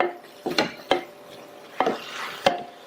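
Spinach sautéed in a pan for a Tamil lunch-box rice, with several distinct clinks and scrapes of a spoon against the pan amid a soft background hiss; the sounds are close and irregular, and no one speaks.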